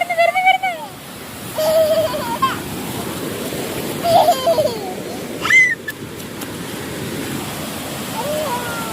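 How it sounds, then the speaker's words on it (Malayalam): Sea waves wash ashore at a busy beach, a soft steady surf and wind wash under scattered children's voices and distant chatter. "അതാ മിഹുവിന്റെ അടുത്ത് ഈ കടൽ വരുന്ന."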